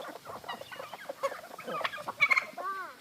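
Chickens on a traditional poultry farm cluck and squawk nearby in short, overlapping bursts, with a few sharper rising calls toward the end.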